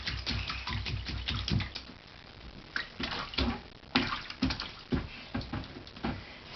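Water splashes in a bathtub as a child plays, with irregular close slaps and patters coming in bursts, then a few louder isolated splashes, fairly faint overall.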